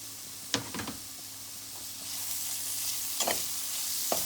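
Pepper, thyme and green onions stirred into a frying pan, a continuous sizzle with a few distinct scrapes and knocks of the utensil, close by.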